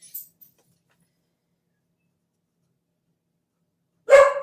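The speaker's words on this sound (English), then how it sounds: "Dog, there's people outside." Silence broken near the end by one loud, close indoor dog bark at people outside, preceded by faint jingling at the start.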